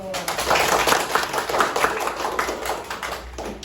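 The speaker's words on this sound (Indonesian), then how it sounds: "Kita beri tepuk tangan dulu." A small group of students in a classroom claps hands in a brisk burst of applause, fairly close, while a teacher speaks over the clapping.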